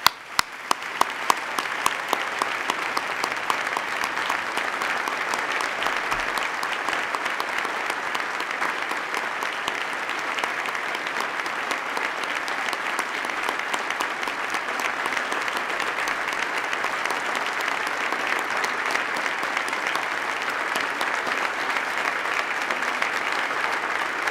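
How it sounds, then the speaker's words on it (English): A large audience at the 2014 New York State of the State address claps in a long, sustained round of applause, a thick, even roar of hands that stays steady throughout. "Please join me in a round of applause."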